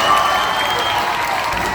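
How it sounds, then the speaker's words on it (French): A crowd at an eloquence contest prize ceremony bursts into loud, sustained applause and cheering right after the first prize is announced, a dense wash of clapping filling the room. "la foule est en délire"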